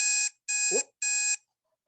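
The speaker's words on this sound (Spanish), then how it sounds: "esa es la alarma" An alarm clock rings in three loud, even bursts of steady electronic beeping separated by short gaps, with a brief low thump between the second and third bursts and silence afterwards.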